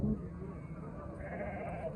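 A sheep gives a brief bleat amid the low murmur of an outdoor livestock market at Aiyrbaz, quiet and mid-distance.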